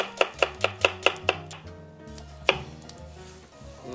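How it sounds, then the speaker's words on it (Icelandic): A knife chops onion on a board in a quick run of six sharp, evenly spaced strokes, then a pause and one last louder chop, close and clear with no talking. "Saxa laukinn bara."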